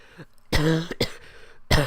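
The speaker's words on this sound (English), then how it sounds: "Sorry about my cough." A few sharp coughs from a sick person close to the mic, harsh bursts separated by short pauses, with one throat-clearing rasp among them.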